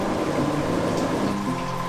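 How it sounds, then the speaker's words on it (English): Sweet wort runs from a mash tun into a brew kettle during homebrewing, a continuous, fairly loud rushing pour of liquid with a steady low rumble. "we're running the sweet liquor from the mash tun into the kettle"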